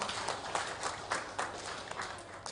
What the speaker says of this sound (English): please give one more big applause for Marek Tesar